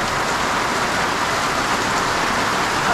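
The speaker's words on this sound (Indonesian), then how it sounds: "Kenceng hujan nih." Heavy rain pours down in a dense, constant hiss with no pauses, loud and close, with no voices over it.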